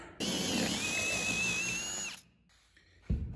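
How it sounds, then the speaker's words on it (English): A power drill with a very large bit boring through plywood whines at high speed for about two seconds, close and loud, then spins down; a thump follows. "that is the biggest drill bit I could find"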